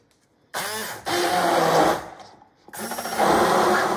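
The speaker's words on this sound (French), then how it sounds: "je prends un pied à soupe. J'ai mis les framboises fraîches, un jus de citron et je vais mélanger." An immersion blender purees fresh raspberries with lemon juice, starting with a short burst and then running loud in two sustained stretches with a brief dip between.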